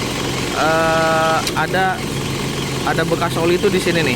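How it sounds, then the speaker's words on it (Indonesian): An Isuzu Panther 2.5 automatic engine runs at a low, steady idle beneath someone talking almost throughout, the motor's hum sitting quietly under his voice. "Harusnya ketika kita cek dalam kondisi mesinnya menyala kayak gini"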